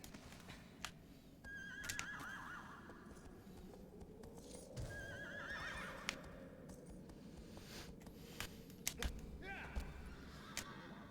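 Horse neighing and clopping hooves in the Shadow of the Colossus video game, repeated whinnies over steady galloping footfalls, with game ambience and a few sharp knocks.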